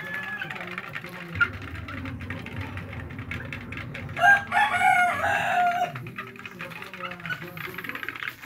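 Chickens cluck steadily over a low background hum, and a rooster crows loudly midway through, a long rising and falling call.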